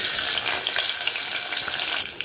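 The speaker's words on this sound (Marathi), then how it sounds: "आता मी यात बटाटे घालते," Potatoes added to hot oil with cumin, crackling and sizzling loudly up close in a continuous hiss that eases slightly near the end.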